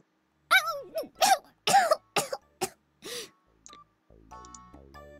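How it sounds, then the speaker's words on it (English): Yumina, a video game character, has a coughing fit: a string of harsh, separate coughs and throat clears of varying length, close and clear. A short musical chime follows at the end. "The first thing I see when I enter is Yumina, who's having a coughing fit."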